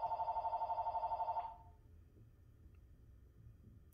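An office telephone trills in rapid, even pulses for about a second and a half, then stops abruptly, followed by near silence.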